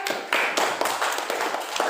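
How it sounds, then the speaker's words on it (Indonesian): Classroom clapping in an Indonesian school lesson, a group of students applauding a classmate with a steady patter of hand claps at moderate level, no voices heard. "Beri tepuk tangan buat Anda."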